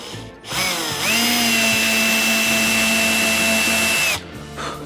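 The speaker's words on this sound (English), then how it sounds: "Where else will you see somebody drilling holes with a broken drill?" An electric drill with a broken mechanism drills into soft wood, spinning up, whining steadily at high pitch for about three seconds, then winding down; close and loud, no voices.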